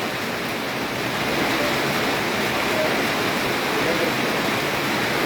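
Steady heavy rainfall in Comilla, Bangladesh, a thick constant hiss close by that stays even in level from start to finish, with no voices over it.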